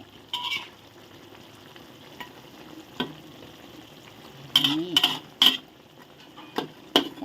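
Catfish with curry paste and Thai eggplant being stir-fried in a pan, a low steady sizzle under a few sharp clanks and scrapes of a spatula against the pan, bunched near the end.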